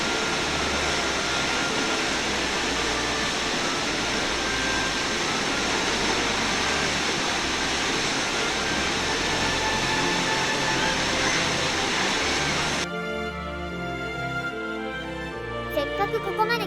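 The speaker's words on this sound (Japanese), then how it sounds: "さすがにこの滝はでかい。" Kegon Falls, a large waterfall near Lake Chuzenji in Japan, gives a continuous, dense roar heard up close for most of the stretch, before the sound shifts abruptly to a thinner, more broken texture near the end.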